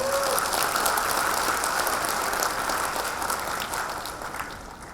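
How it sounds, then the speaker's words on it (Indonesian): An audience at an academic oration ceremony applauds in a steady, fairly distant wash of clapping that slowly fades toward the end. "Tepuk tangan untuk kalian semuanya."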